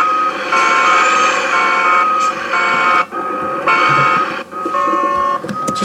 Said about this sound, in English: Outside the cab, it was beep, beep. And inside the cab, it was like beep, beep, beep.